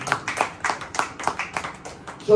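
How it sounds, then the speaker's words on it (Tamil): A church congregation at a Tamil sermon claps hands in praise, a steady rhythmic series of sharp claps about three per second, fairly close, with a voice speaking over them. "கைத்தட்டி ஆண்டவர் மகிழ்ச்சி."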